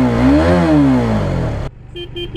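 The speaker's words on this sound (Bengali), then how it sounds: "বাইকের যদি সাউন্ডটা শোনাই" A Hero Karizma XMR 210 motorcycle engine revs up close, climbs and falls back over about a second and a half, then cuts off abruptly and is followed by a few faint short beeps.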